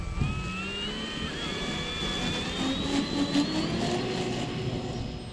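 FMS T28 Trojan RC model airplane flying over a grass field, its electric motor whine sweeping up and down in pitch as the throttle changes, steady and moderately loud from nearby.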